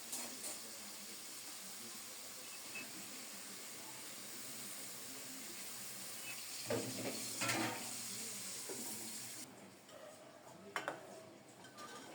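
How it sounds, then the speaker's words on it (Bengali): A covered pot of curry simmers on low heat with a soft, steady sizzle and hiss, close and quiet, with a few faint clinks of the lid or utensils partway through. "ঢেকে ঢেকে অল্প তাপে রান্না করব।"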